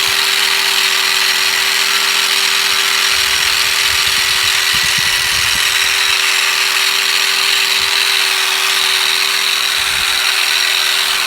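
A power tool with a worn abrasive pad buffs and cleans parts from a 1965 Dodge D500 truck, giving a steady, loud high-pitched whine with faint low rumbles beneath, continuous throughout and without speech.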